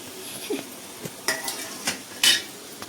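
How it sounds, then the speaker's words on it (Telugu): Tomatoes, green chillies and mint tipped into a large pot of pulao over frying ginger-garlic paste, heard as scattered metallic clanks, spoon scrapes and clinks against the pot, with a faint sizzle underneath. "ఆ తర్వాత నేను ఇక్కడ ఇవి టమోటాలు, మిర్చీలు, పుదీనా అన్నీ వేసేస్తున్నాం."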